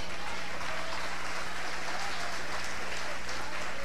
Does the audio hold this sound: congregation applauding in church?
yes